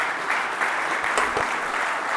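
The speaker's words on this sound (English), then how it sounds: "can we give Casey a big round of applause and welcome her onto the stage" An audience at the EVOLVE 2025 fitness event gives a steady, dense round of applause as a speaker comes onto the stage, with many hands clapping together and no break.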